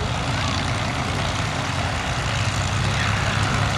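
Four Fokker S-11 Instructor trainer aircraft of the Fokker Four display team take off at Duxford's summer air show, their propeller engines giving a loud, continuous droning roar.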